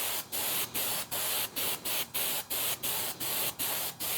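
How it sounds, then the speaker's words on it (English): Spray adhesive hisses from an aerosol can in about eleven short, even bursts, close and fairly loud, laying a thin tacky coat while installing a tunnel repair window on a 1956 oval-window Volkswagen rag-top. "you have to shake it up a little bit before you spray it down"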